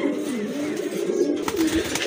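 A pair of racer pigeons coos steadily and close by, their soft throaty rolling calls running continuously with no voices present.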